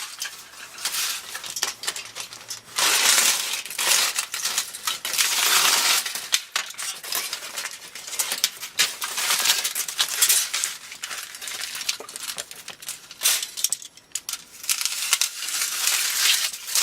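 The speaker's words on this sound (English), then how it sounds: "take any excess and just go ahead and cut that off" Excess material is cut off and handled while extending a network adapter's range, producing close, crinkly crunching and rustling in uneven bursts throughout.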